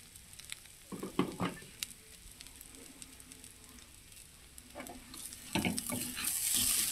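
Washed moong dal frying in a pan, with soft crackling sizzles and occasional stirring scrapes that come in short bursts, quieter through the middle and rising to a steadier, louder sizzle toward the end.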